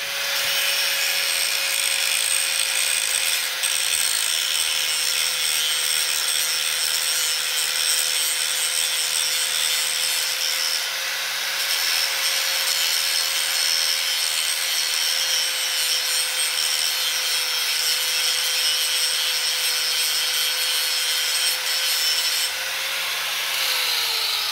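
A grinder works down a metal part during a chain and sprocket change on a Suzuki DR650 motorcycle, a continuous loud abrasive whine holding one pitch for about twenty-five seconds, close and without talk.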